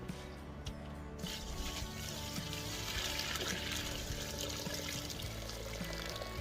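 Water is poured from a container into a bucket of rabbit manure to make liquid fertiliser, a steady, fairly quiet splashing pour that continues throughout.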